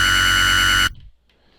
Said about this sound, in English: if you're looking for some sort of high-pitch wobble or high-pitch bass sound